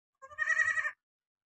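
A goat bleats once in an Assam village, a single close, clear, wavering call lasting under a second, with silence before and after.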